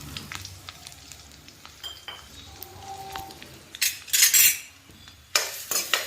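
Onion goes into hot oil in a pan and is stirred. Faint sizzling and light metal clinks of a spoon on the pan build into louder bursts of hissing and scraping in the last two seconds, with no talk.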